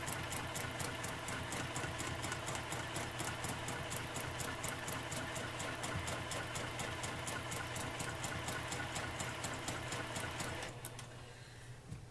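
A sewing machine runs fast and steadily during free-motion quilting, giving a continuous rapid needle chatter with an even rhythmic pulse, close and loud, before easing off and slowing near the end.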